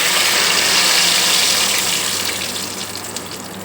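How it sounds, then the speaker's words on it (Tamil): Ground masala paste is poured into hot oil in a pan for a village-style egg curry. It sets off a loud, close, hissing sizzle that gradually eases and fades. "அரைக்கும் எண்ணெய் சூடாயிடுச்சு இப்போ நான் அரைச்சி வச்ச சாந்தை அப்படியே இதில் ஊற்றப்போகிறேன்"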